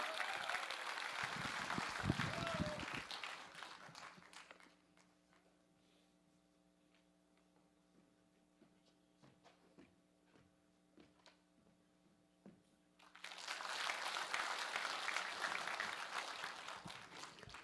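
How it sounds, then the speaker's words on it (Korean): A crowd at a political briefing event claps loudly for several seconds, fades to a quiet hum with faint ticks, then bursts into strong applause again. "큰 박수로 맞이해 주시기 바랍니다"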